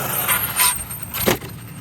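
An Arrma Kraton 8S RC basher car running a Vitavon Max 4 motor combo, giving a few short throttle blips that whine up in quick surges over steady outdoor noise.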